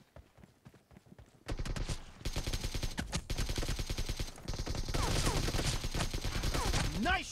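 Rapid automatic AKM gunfire in a 1v1 video game match, dense rattling bursts of shots that run almost continuously and loudly, with game sound effects sweeping through near the end.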